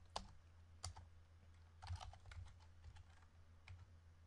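Quiet, close typing on a computer keyboard while entering SQL code, with irregular clusters of soft key clicks and occasional sharper taps over a low steady hum.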